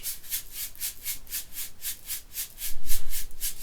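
A shaker is played legato in a steady, evenly spaced series of soft, sustained swishes, about a dozen in all, close and alone.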